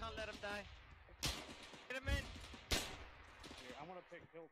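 ArmA 3 video game gunfire cracks out in a few sharp, loud bursts while a voice talks excitedly over and between the shots.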